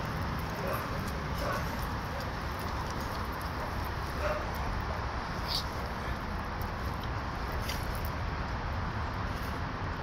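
A dog whimpers and lets out a few faint yips over steady broadband background noise, with soft, distant sounds spread across the stretch.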